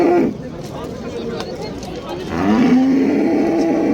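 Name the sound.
cow mooing at livestock market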